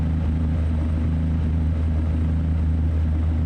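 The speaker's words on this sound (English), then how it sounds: "It's got a weird sound," A Kenworth T680 truck engine in American Truck Simulator drones at a steady, constant pitch, a loud unbroken low hum with no change in rhythm throughout.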